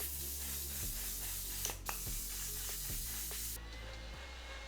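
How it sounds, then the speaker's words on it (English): A bottle of One Size Until Dawn setting spray mists steadily for several seconds, close and hissing, with a few faint clicks and taps partway through; no talking. "Normally I'd set my face with the One Size Until Dawn setting spray"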